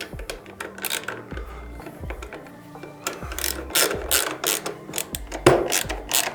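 Mounting bolts being tightened on a Mustard Bikes tail tidy fitted to a 2024 CFMOTO 450MT motorcycle: a close run of quick ratcheting clicks and metallic ticks, coming in short bursts with brief pauses between, no voices.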